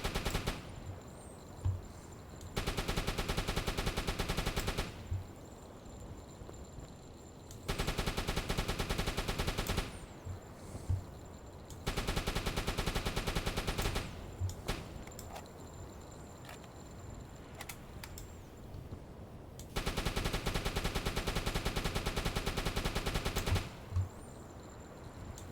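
Rapid automatic gunfire in the submarine game UBOAT, sounding in several long sustained bursts separated by short pauses until the ammunition runs out, loud and with no talking.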